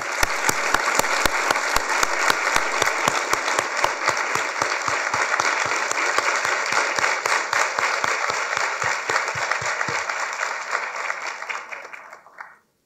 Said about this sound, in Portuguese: Também convido o ex-presidente Michel Temer, uma salva de palmas